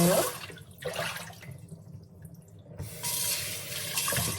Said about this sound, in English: I will just dip them again in water.